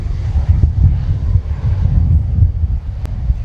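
A Eurofighter Typhoon jet passing overhead during a NATO anniversary flypast at RIAT, a loud, steady low roar with gusty wind buffeting the microphone and no voices.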